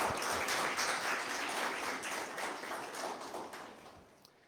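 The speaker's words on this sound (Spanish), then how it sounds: "les pido por favor un fuerte aplauso al ingeniero Santiago Mena, a la licenciada Angélica y al licenciado Freddy Licona" Audience applause at a university talk on creativity at Centro Universitario Hidalguense, a soft, fairly distant patter of many hands that holds steady and then gradually fades away.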